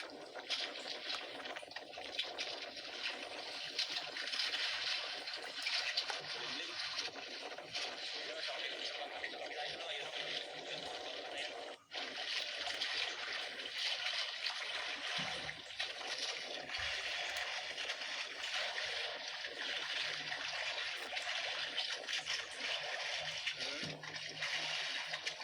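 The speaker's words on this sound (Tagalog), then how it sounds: "Grabe yung klase yung alon" Sea waves and rushing water around a small fishing boat at sea, a continuous broad wash of splashing and sloshing with occasional brief dips, fairly faint and steady throughout.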